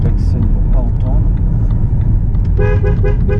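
A car horn gives a few quick, loud, close honks near the end, over steady road and engine noise, with people talking.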